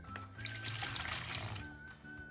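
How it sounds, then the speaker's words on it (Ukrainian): Warm water, no hotter than 30 degrees, pours steadily into a bowl while a sponge starter for wheat-rye bread is made, a close, continuous splashing trickle with no talk. "В миску виливаємо половину води від загальної кількості."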